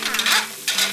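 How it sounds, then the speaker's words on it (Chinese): A toy kitchen's stir-frying sound effect gives two short, loud bursts of sizzling scrape, separated by a brief dip, with no talking. "继续翻炒。"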